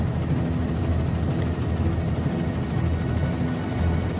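Steady, dense rotor and engine roar of a helicopter hovering over buoys in a tsunami action film scene, loud and constant throughout with no talk.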